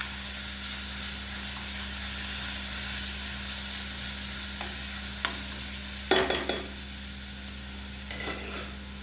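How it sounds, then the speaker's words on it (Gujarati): Garlic paste sizzling in hot ghee in a pan over slow to medium heat, a steady close frying hiss with a few brief stirring clinks, no talking. "આપણે ઘીમાં 1 ટેબલ સ્પૂન લસણ છે, જેની મેં પેસ્ટ બનાવી લીધી છે, એડ કરશું"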